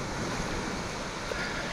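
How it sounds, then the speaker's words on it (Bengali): Sea waves surge and break against the shore at Frazerganj on the Bengal coast, where an embankment is being built, making a steady, loud wash of surf with wind noise and no clear breaks. "এই সমুদ্রের জল এখানে এসে আছড়ে পড়ছে।"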